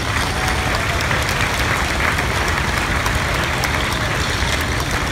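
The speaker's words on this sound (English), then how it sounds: "I'd like a nice round of applause for Kevin." Crowd applause at an outdoor threshermen's reunion parade for a man with his Massey Harris General Purpose tractor, loud, dense and continuous with faint vehicle rumble beneath.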